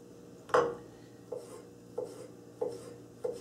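A knife cuts through fruit on a board for a summer fruit tart, giving one firmer initial chop followed by four lighter, evenly spaced taps close by, with no talking.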